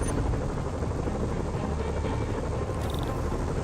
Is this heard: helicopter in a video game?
yes